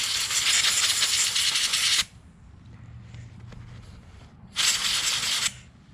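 Aerosol cleaner sprayed into the carburetor of a Stihl MS 290 chainsaw: two loud close hissing bursts, the first about two seconds, the second shorter, with quiet between.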